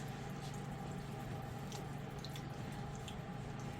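Grapes being bulk-washed in water, with steady running and splashing water and faint drips as the fruit is agitated, close and continuous with no talking.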